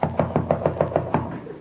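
A door is knocked on with a quick series of about eight evenly spaced raps, close and fairly loud, heard on its own in an old-time radio comedy.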